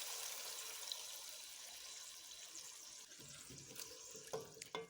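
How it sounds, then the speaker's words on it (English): Water is added to potatoes in a cooking pot for chicken pilau, giving a steady faint rushing pour with a few light knocks toward the end. "add them in and add some water."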